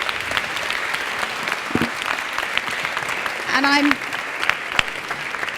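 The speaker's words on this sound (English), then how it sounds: "Please will you join me in a round of applause for our speakers in this session." A room full of people at a mobility roundtable applauds steadily and evenly for the session's speakers, with a brief voice speaking partway through the clapping.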